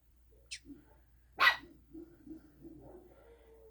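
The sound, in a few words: puppies barking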